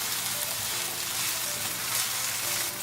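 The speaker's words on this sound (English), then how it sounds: "We're going to cook onion until they get translucent." Onion fries for achari chicken in a pan, a steady, close crackling sizzle with a fine hissing texture throughout, no voices.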